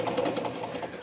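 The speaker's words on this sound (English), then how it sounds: "Long hours spent at her sewing machine in East Moline seem a long time ago for Joyce Haskins." A sewing machine runs steadily in a home in East Moline, its rapid, even mechanical chatter close and continuous throughout.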